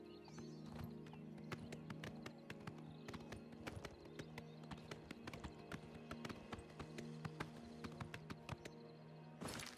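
Steady clip-clop of horse hooves trotting at an even pace in the video game Oblivion Remastered, over a low droning backdrop, with occasional sharper knocks.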